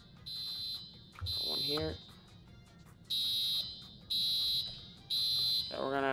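A fire alarm in a Roblox fire-department roleplay game sounds in repeated shrill electronic bursts, about five long beeps with short gaps, while someone speaks briefly between them.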